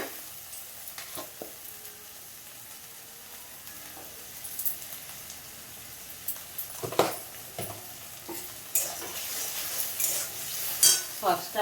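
Paneer curry with yogurt and salt sizzles in a pan under repeated stirring, with spoon scrapes and clinks that grow busier and louder toward the end, close up and without speech.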